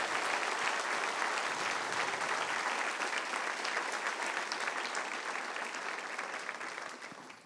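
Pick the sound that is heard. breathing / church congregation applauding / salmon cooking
church congregation applauding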